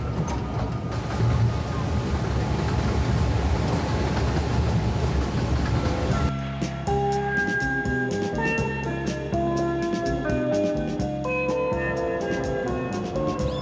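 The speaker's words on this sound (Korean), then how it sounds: "생태열차라 불리는 기차를 타고 숲속으로 들어가 본격적인 탐험을 시작한다" An eco train rolls through the jungle at Iguazu Falls in Argentina with a steady broadband rumble for about six seconds, then music takes over with plucked and sustained notes to the end.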